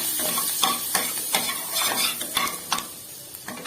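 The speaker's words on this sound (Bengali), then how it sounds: "দিয়ে রসুনগুলো একটু নাড়াচাড়া করে নেব" Chopped garlic sizzling in butter in a pan while being stirred, a steady close hiss broken by repeated scraping strokes of a spoon against the pan, with no voices.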